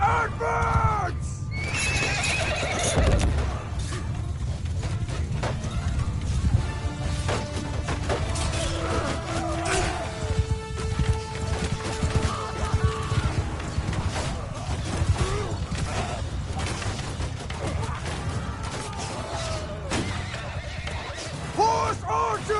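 Horses neigh repeatedly and hooves pound across a Mount and Blade 2: Bannerlord battlefield, thick with clashing, crashing noise and shouted voices throughout.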